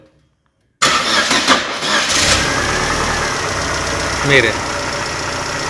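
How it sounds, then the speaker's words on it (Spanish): After a moment of silence, a Chevrolet Aveo 1.6 with 115,000 km starts abruptly and settles into a steady nearby idle, with only faint valve tapping left, while someone speaks briefly. "el sonido del taqueteo disminuyó considerablemente"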